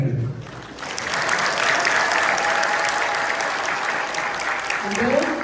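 Members of a church congregation clap together in steady, dense applause, with a voice heard briefly at the start and again near the end over the clapping.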